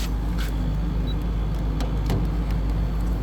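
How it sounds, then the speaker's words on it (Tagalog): An air conditioner's outdoor fan and compressor running, a loud, steady low-pitched hum and whoosh with no change in level, close by, with a few faint clicks over it and no talking. "Mandar na yung outdoor fan, mandar na rin yung compressor."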